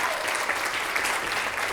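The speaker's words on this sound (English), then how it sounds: "So give them a round of applause for that." Sustained audience applause for a high school jazz band at a spring concert, dense and steady clapping filling the room throughout with no talk.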